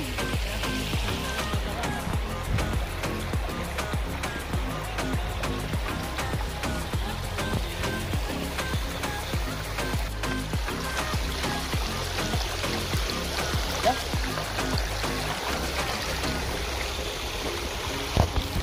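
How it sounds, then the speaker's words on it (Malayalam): Stream water flows through a flood-damaged area, rushing and splashing in a steady, dense wash that runs unbroken for the whole stretch. "മീനുകളുടെ തോട്ടില്,"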